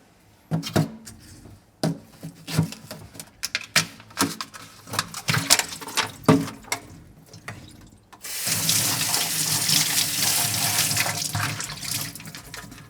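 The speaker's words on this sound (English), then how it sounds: "I just quickly rinsed this" A package of firm tofu being rinsed under a kitchen tap: first a run of irregular knocks and splashes as the block is handled, then a loud, steady stream of running water filling the sink, close up with no voices.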